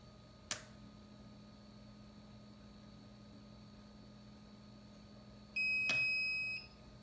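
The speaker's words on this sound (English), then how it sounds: "And you heard the beep, that means it's reset." A short electronic beep from an egg incubator being reset sounds near the end, steady and moderately loud over a low background hum, preceded by a single click.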